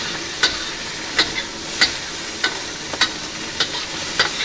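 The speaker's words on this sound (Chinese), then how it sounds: "再炒一会儿出香料，" Spices being stir-fried in a wok for sauerkraut fish, a soft continuous sizzle broken by regular scraping strokes of a spatula roughly every half second or so, close and without talk.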